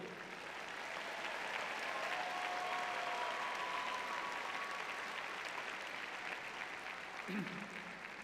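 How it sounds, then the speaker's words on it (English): Large crowd at a college commencement ceremony in an arena, sustained applause rolling steadily through the hall, heard at a fairly low level with faint voices mixed in. "Let's applaud the parents, families, friends, faculty, staff, and mentors whose support and love have helped you along the way."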